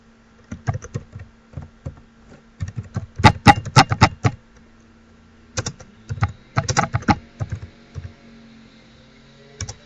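Someone types on a computer keyboard while working in subtitle editing software, giving close, crisp key clicks in irregular bursts with short pauses between them.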